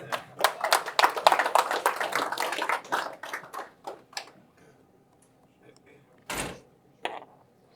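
A knock-responding device plays back a knocking pattern as a series of sharp, close taps in quick rhythm that thin out into scattered single knocks with gaps between them.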